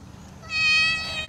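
A cat gives one clear, loud drawn-out meow at close range, with no talking.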